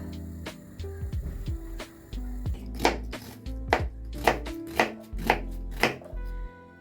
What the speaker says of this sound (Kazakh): Пиязымызды осылай майдалап турап аламыз.